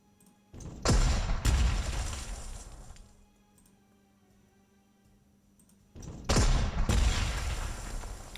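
Two heavy artillery cannon blasts in the video game Panzer Corps, each with a sharp double report and a long booming rumble that fades, separated by several seconds of quiet.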